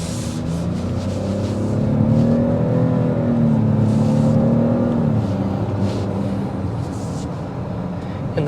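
A steady engine drone from a 2023 Cadillac XT5 Sport SUV hums continuously from inside the moving vehicle on a highway, rising slightly as it accelerates, with faint road and wind noise.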